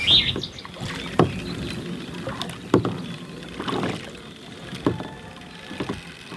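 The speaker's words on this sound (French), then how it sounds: "je vais prendre la barque et je vais aller relancer à la même zone" A rowboat moves out on the water during a sturgeon fishing outing, with a few sharp knocks and splashes from oars or hull over a steady, moderately close wash of water and light wind.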